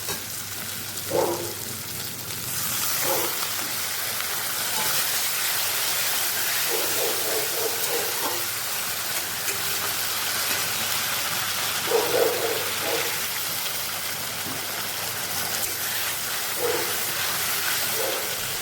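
Water hits hot oil, spices and potatoes in a wok, setting off a loud, steady hiss and sizzle that holds for about eighteen seconds, with a few scraping stirs, and no one talks.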